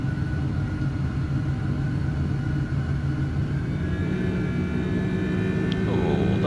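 Boeing 767-300ER engines spooling up under auto throttle in a flight simulator, a steady loud jet roar and rumble with a rising whine building toward the end, no talk.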